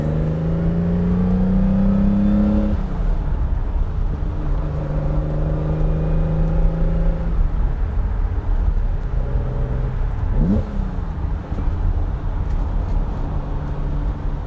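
A 1972 Ferrari 365 GTC/4 engine roars past on a flyby, loud and sustained, with rising and falling revs and gear-change shifts over a steady road rumble.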